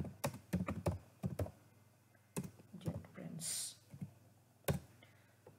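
Keys clatter on a computer keyboard in short bursts of quick taps and clicks, close and fairly faint, separated by pauses, with a low hum beneath.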